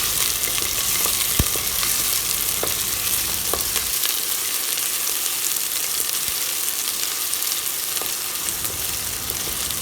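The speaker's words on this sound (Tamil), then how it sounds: "அதை போட்டுட்டு வெங்காயத்தை நல்லா வதக்கி விட்டுறலாம்." Ten finely chopped small onions sauté in hot oil with fennel and curry leaves, giving a steady close sizzle with occasional stirring clinks and no talking.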